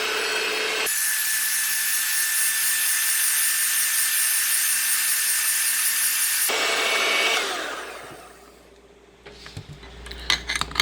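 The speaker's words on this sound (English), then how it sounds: "we'll just go ahead and whisk this" Banana bread batter being whisked in a bowl: a steady, loud whirring drone for about six seconds that then fades, followed by a few faint clinks and knocks.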